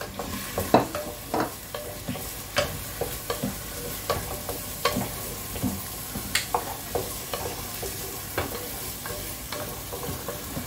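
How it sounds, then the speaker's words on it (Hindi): Red lentils roasting in ghee in a pan are stirred steadily with a spoon, giving repeated scraping strokes over a soft, continuous sizzle, close and moderately loud. "मसूर की दाल को 5 मिनट तक अच्छे से भूनेंगे"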